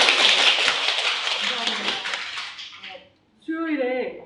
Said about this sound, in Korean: 네, 박수로 따뜻하게.